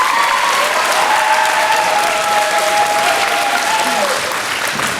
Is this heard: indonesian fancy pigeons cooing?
no